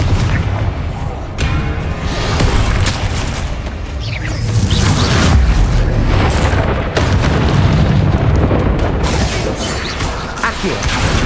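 Repeated Confringo spell explosions in the video game Hogwarts Legacy, heavy booming blasts arriving one after another through a dense, loud battle din with no pause between them.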